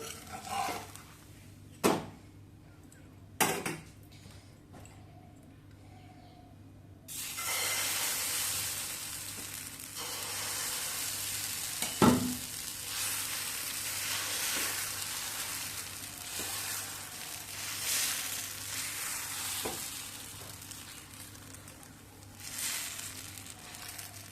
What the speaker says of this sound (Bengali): সমস্ত পরাটাগুলো একইভাবে ভেজে নিলাম